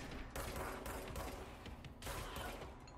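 Gunfire in the video game Control, a sustained rapid burst of shots with rhythmic repeated bangs layered over a dense mechanical background, steady and fairly loud throughout.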